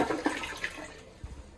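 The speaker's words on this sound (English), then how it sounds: "1 gallon per flush, obviously." Kohler toilet in a hotel restroom, a 1-gallon-per-flush model, flushing with a loud rushing surge at the start that drains away into a quieter gurgle, heard alone up close.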